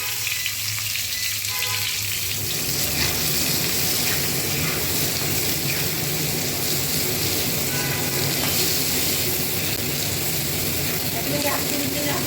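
Drumstick (sajna) pods frying in hot oil for a bharta, making a loud, continuous, close sizzle that crackles without pause throughout.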